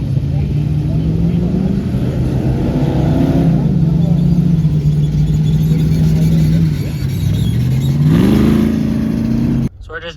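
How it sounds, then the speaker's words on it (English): Ultra4 off-road race cars at a start line rev and accelerate hard, a loud, close engine drone rising in pitch with gear changes, steady for several seconds, then cutting off sharply near the end. "Hopefully we can find a spot to park and catch some of the EMC cars take off."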